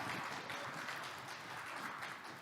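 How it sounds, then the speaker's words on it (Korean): Audience applause at the closing session of the 2021 Pyeongchang disability forum, a steady, even wash of many hands clapping that holds at a moderate, somewhat distant level for the whole span. "함께했던 모든 분들을 위해서 큰 박수 한번 부탁드리겠습니다"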